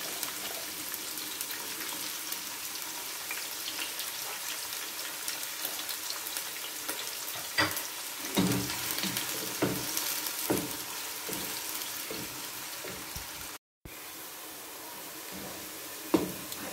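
Finely chopped onions frying in hot oil in a pan for matar pulao, a continuous close sizzle with scattered pops and crackles and a brief dropout near the end.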